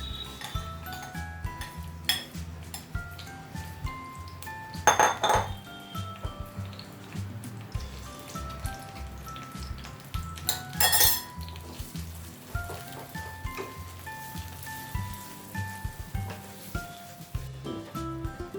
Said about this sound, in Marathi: असं छान मोकळं होईपर्यंत परतून घ्यायचं आहे पाच सात मिनटं